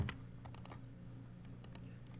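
Keys tapped on a computer keyboard while entering backgammon moves at a finals match, a few soft scattered clicks at the start and again near the end over a quiet room hum.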